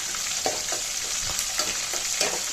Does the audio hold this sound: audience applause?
no